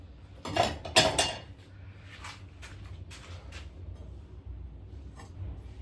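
Ceramic bowls from a set of four, fresh from a kiln unloading, clink together in two close, bright bursts, then a few lighter, softer knocks of glazed pottery follow against a quiet room hum.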